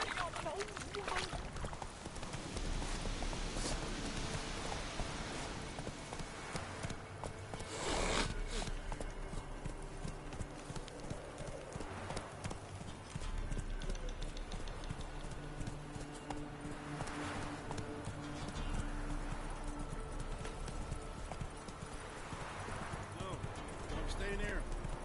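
Geralt's horse Roach trots in The Witcher 3, steady hoof clip-clops under background music and occasional character voices throughout.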